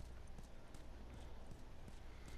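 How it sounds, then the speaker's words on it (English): A horse's hooves clip-clop steadily up stairs in The Last of Us, a continuous run of hollow hoof strikes at moderate distance over a dense, noisy game ambience. "She took the horse up the stairs."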